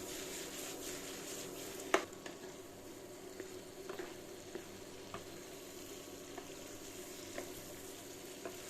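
Ackee and saltfish sautéing in a pan for Jamaica's national dish: a soft, even sizzle with quiet scraping stirs and a few light utensil taps, faint and close, with no talking.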